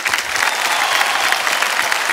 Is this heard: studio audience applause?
yes